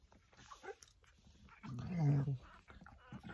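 A bully-breed dog in labor whimpering and softly groaning while giving birth to puppies, faint intermittent whines building to a longer strained moan near the middle, close by and alone.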